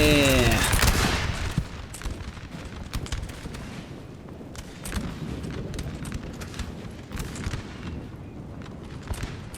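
Musket volleys crackle from massed Bavarian infantry lines in the Napoleonic battle game Napoleon Total War 3, a rolling fusillade of sharp overlapping shots with a heavy boom at the start, continuing steadily across a large 4v4 battle at Wagram.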